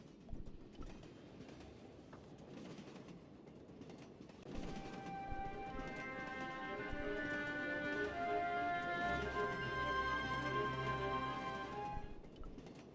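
Steady train ambience from the Broken Sword Reforged video game, a continuous rolling rumble that swells louder midway, with rhythmic wheel clatter and sustained tonal hum carrying through to the end.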